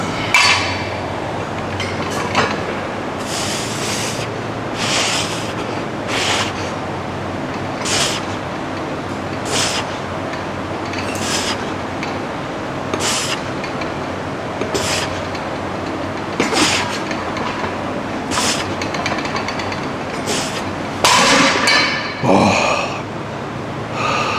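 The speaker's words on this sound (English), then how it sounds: "Set 1 T-bar rows." Weight plates clank repeatedly during a set of T-bar rows in a gym, sharp metallic knocks at a steady rhythm with heavy breathing under a constant room hum.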